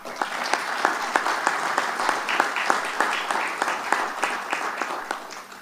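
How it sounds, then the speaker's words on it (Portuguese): Applause at a formal assembly session: a crowd claps steadily for several seconds in a dense, even patter, with a few sharper claps standing out near the listener. "Mislim za ovo aplauze."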